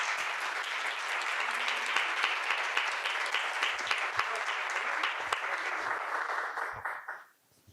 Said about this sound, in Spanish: os pido un aplauso de bienvenida a Laurín, a Vicente Garrido